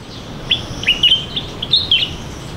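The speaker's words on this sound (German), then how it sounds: "die Vögel sind hier unglaublich" Birds chirping at a beach with lush plants nearby, a series of short, bright tweets in small bursts over soft steady background noise, with no voices.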